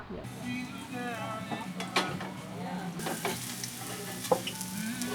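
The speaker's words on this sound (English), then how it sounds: "Making some eggs." Eggs frying in a pan at a campsite, a steady crackling sizzle with occasional scrapes and stirring clinks of a utensil, close and continuous.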